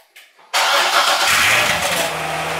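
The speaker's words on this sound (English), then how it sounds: "this is the cold start with the OEM exhaust" A Chevrolet Corvette C6 Z06 with its stock OEM exhaust fires up from a cold start: a short cranking burst gives way to a loud, steady engine roar that settles toward a high idle, with a low drone emerging underneath.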